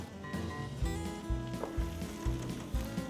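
Mushrooms frying in a pan with garlic added, a steady close sizzle with soft stirring knocks and a low background hum, no talking.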